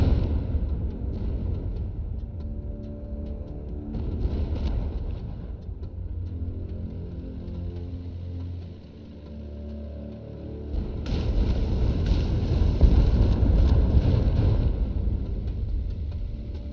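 A heavy amphibian attack vehicle in the DieselPunk Wars game rumbles with a low, steady engine drone that swells louder and rougher in the last few seconds, with no talking.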